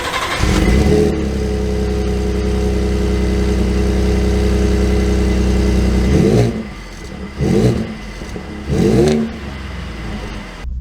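A 2023 Ford F-150 pickup with the 3.3-litre V6 pulls away, its steady engine drone holding loud for several seconds before easing, then rising again in short revving surges.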